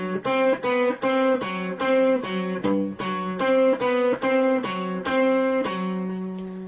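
Classical guitar plays a Bach passage, measure 3 repeated, as a steady stream of plucked notes over a sustained low bass, clear and close with no talking.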